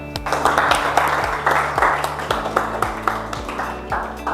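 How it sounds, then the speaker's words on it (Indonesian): Classroom applause at the close of a university teaching session, a loose patter of claps over steady low background tones and a faint voice, moderately loud and continuous for a few seconds. "Beri tepuk tangan"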